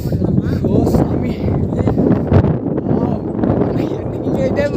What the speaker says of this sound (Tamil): வேற லெவலில் காற்றடிக்குது, அப்படியே பனி அடிக்குதுங்க, பனி வீசுது.